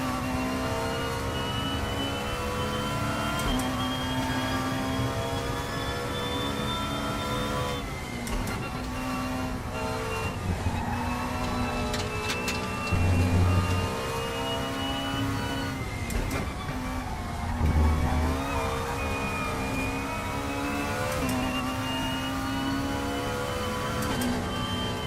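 A BMW super touring car in Raceroom at Brands Hatch runs at sustained high revs, its engine whine holding and dipping between gear changes, loud and continuous, with a couple of low thumps.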